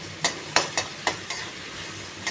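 Potato pieces fry with turmeric in a pan while being stirred, a steady close sizzle punctuated by about six sharp scrapes and knocks of the utensil, without any voices.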